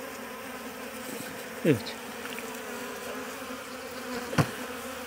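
Honey bees hum and buzz steadily around an opened beehive, a dense, continuous drone close by, with a couple of louder bees passing near and a brief spoken word.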